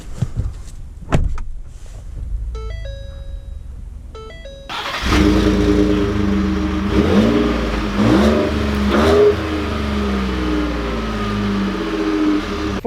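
A 2020 Ford F-150 Black Appearance Lariat sounds a few cabin chimes, then the engine cranks to life with a burst and revs through several rising pulls as it drives away, heard close from inside.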